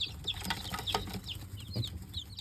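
Dark Cornish meat chickens on a homestead give soft, scattered clucks and chirps at close range, several overlapping calls repeating irregularly over low background rustle.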